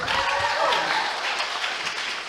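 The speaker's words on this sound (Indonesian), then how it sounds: "Tepuk tangan." Seminar audience in a hall on disaster management claps together, a brief dense burst of applause that fades slightly over two seconds.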